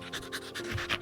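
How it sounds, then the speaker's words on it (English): Rhythmic dog panting in the Goblinball video game, quick breathy huffs repeating steadily at close range for about a second with no talk over it. "That is my dog."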